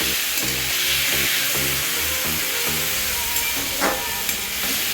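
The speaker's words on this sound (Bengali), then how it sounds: "এইগুলোকে আমি ভালো করে ভেজে নেব। গাজর, আলু, ক্যাপসিকাম আর পেঁয়াজ" Carrots, potatoes, capsicum and onions sizzle and crackle in a hot pan for chow mein, a steady frying hiss with low tones pulsing underneath.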